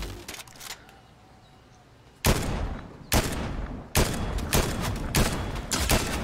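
Gunfire from the video game Fortnite: a scattered stream of quick shots, then a run of loud, evenly spaced blasts with a hard attack and a short tail. No one speaks.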